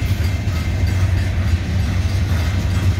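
A train rumbles past in Windsor, Connecticut, with a steady low roar and faint rattling, continuous and fairly close, with no talking.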